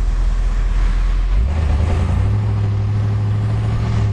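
The V8 engine of a 1970 Oldsmobile Cutlass 442 convertible rumbles steadily from inside the cabin, its low drone shifting pitch partway through as the car accelerates; no talking.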